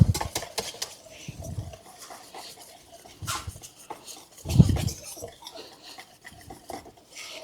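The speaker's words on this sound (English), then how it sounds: "You're mixing something like this, a whisk is better." Whisk scraping and clinking against a bowl while mixing a chocolate marshmallow pie filling, in short bursts with louder knocks near the start and middle, and faint background sounds in between.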